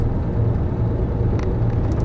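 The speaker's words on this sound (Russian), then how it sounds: "поэтому машина разгоняется очень быстро" A vehicle picks up speed downhill on a worn, broken asphalt road, giving a steady loud low rumble of engine and road noise with no talk.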